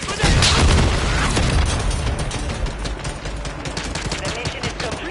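A flashbang grenade goes off in Modern Warfare 3 with a loud burst at the start, followed by sustained crackling, booming combat noise that stays dense and loud throughout.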